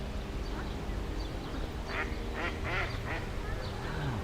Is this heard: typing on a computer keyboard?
no